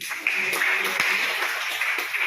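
Classroom applause for a student group during a teaching performance session, a steady dense wash of many hands clapping together, moderately loud and continuous through the whole moment.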